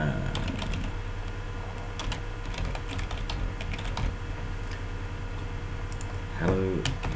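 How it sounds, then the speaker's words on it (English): Rapid keystrokes clatter on a computer keyboard, a close and steady run of clicks over a faint room hum while details are typed into a web form. "I'm just going to type in some details."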